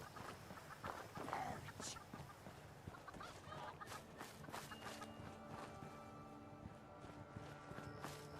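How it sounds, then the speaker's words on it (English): Chickens cluck in the Fallout 76 game world, a faint, busy scatter of bird calls with light footsteps and background game ambience, continuing steadily throughout. "Was he killing a chicken?"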